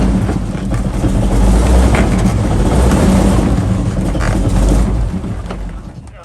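A T-34/85 tank running while being driven, a loud low rumbling engine roar with mechanical rattle that swells and holds steady, then drops away near the end; nobody speaks.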